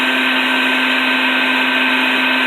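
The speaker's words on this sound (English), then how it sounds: "Vacuum them up. As they swarm," A vacuum sucks up a swarm of yellow jackets after they have been hit with soapy water, a loud, steady motor whine with a high tonal hum running unbroken throughout, no voices present.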